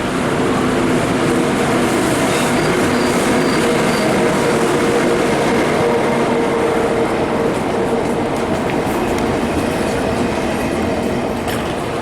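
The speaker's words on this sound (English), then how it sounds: "There's my train to Frankfurt, 1923 service, due back into Frankfurt at about midnight." A train for Frankfurt stands at the upper deck of a station in Germany, giving a loud, steady rumble with faint clicks and squeals of wheels throughout.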